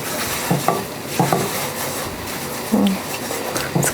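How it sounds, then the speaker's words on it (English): Rice being stirred in a pan while cooking Korean beef, soft scraping and clinking of a utensil against the pan in a few brief strokes over a faint background sizzle. "I'm gonna stir that a little bit."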